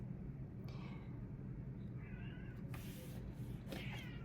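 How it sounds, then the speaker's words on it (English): A pet cat meows at a door, several faint, drawn-out cries spaced out over a low background rumble, with no talking. "I hear my cat Lucky at the door."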